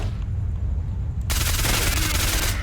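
Sustained automatic gunfire in S.T.A.L.K.E.R. Shadow of Chornobyl Enhanced Edition, a loud continuous burst of rapid shots that starts abruptly after a quieter ambient lead-in and runs to the end.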